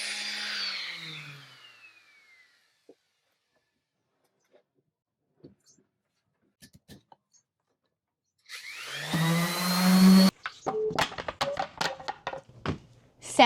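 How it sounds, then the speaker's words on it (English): Sanding a wooden board by hand or machine: an early burst of abrasive scraping fades away, then a quiet stretch with a few faint knocks leads to a loud, harsh run of rasping and choppy strokes. "time to sand."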